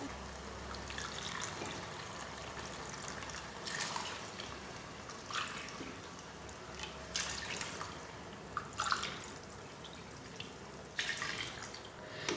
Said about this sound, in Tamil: இதே கப்பால் நான் 3 கப் தண்ணி சேர்க்க போகிறேன்